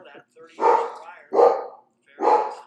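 Three loud, close dog barks spaced about a second apart, each a sharp bow-wow burst with short silent gaps between.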